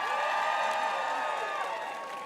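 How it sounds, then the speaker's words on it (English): Audience at a campaign rally in Flagstaff, Arizona applauds and cheers as a speaker is introduced, a steady wash of crowd noise with scattered whoops and clapping that eases slightly toward the end. "Give her a round of applause."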